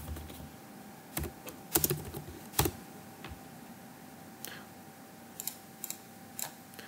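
Keys on a computer keyboard are tapped in short, irregular clusters while entering tasks into an Excel weekly planner, close and quiet with pauses between bursts.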